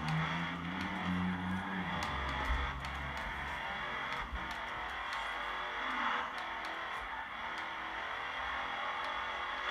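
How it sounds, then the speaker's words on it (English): A supercharged car in the Forza racing game gives a continuous engine drone with a thin whine on top, briefly rising and shifting early on, then holding fairly steady. "Oh, you can hear the supercharger."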